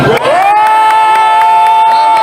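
A loud crowd cheers and whistles steadily, with a sustained high whistle or shout ringing over the roar, no speech.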